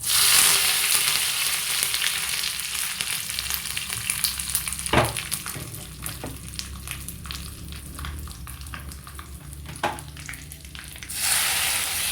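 Mustard seeds tempering in hot oil for avial, a loud continuous sizzle with scattered sharp pops and crackles, close up, easing slightly before a brief surge at the end.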